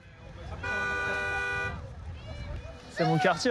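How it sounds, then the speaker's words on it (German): Car horns honk in congested city street traffic held up by a flock of about 30 sheep being driven through town; a long sustained toot followed by shorter blasts, loud and close, with voices around. "Die Autos hupen, weil es nicht weitergeht."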